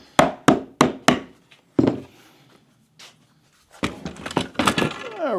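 Sharp wooden thunks from nails being hammered while clamping together a wooden beehive box, a quick series of four close blows, a pause with a couple more, then a busier cluster of taps and knocks near the end.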